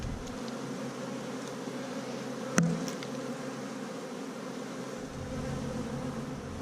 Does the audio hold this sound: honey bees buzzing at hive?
yes